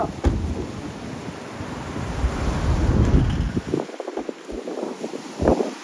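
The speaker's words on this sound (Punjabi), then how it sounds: "ਕਾਫੀ ਉੱਪਰ ਤੋਂ ਪਾਣੀ ਆ ਰਿਹਾ ਕਾਫੀ ਜ਼ਿਆਦਾ" Heavy water rushing down from high on the mountain near Rohtang Pass, Manali, a loud continuous roar mixed with gusty wind buffeting the microphone, easing briefly toward the end.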